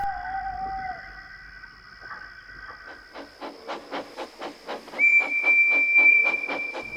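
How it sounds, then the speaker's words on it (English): A steam engine's whistle sounds in long sustained tones, with rhythmic chuffing pulses building beneath and a higher shrill whistle joining toward the end. "Half an hour later, a ghostly whistle was heard."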